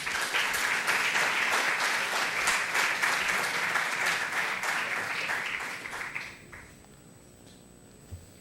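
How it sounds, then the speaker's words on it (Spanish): Audience at a football film festival panel discussion applauding in a full, even burst of clapping that fades out toward the end, leaving a quiet room. "Demos un caluroso aplauso a Juan Carlos Ortecho."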